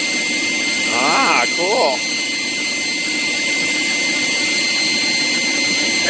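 A forced-air propane forge burner roars steadily outdoors, a loud, constant broadband rush with a faint whine that runs the whole way through while wind buffets it. Someone speaks briefly early on over the noise.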